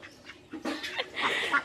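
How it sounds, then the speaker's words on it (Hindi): Village ducks quacking in a quick run of nasal honks, several calls overlapping and growing louder toward the end, fairly close and clear against a quiet background. "बत्तख मैं दिखाती हूँ, देख सकते हैं कितना ज़्यादा बत्तख है।"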